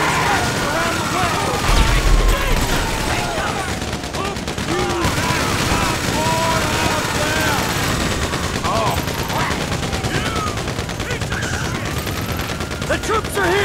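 Dense, continuous gunfire from Grand Theft Auto V gameplay played on an Xbox Series X: rattling automatic bursts and overlapping shots fill the whole stretch at high volume, with game voices mixed into the din.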